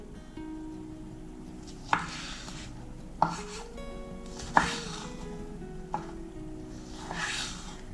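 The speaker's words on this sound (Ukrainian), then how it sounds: "І другу помідорку нарізаю на кубики." A knife dices tomatoes against a cutting board in single sharp knocks, roughly one every second or so, over a low background hum.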